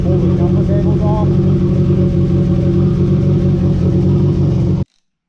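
Engine of a Chrysler Conquest starting and settling into a steady, loud idle close by, a low rumbling hum that runs evenly for nearly five seconds before cutting off abruptly.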